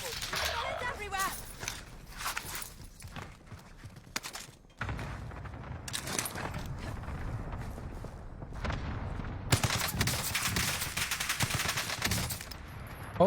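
Gunfire in the battle royale shooter Call of Duty Warzone: scattered shots and bursts that come and go in waves, with heavy volleys from about the middle onward, mixed with game noise at moderate loudness.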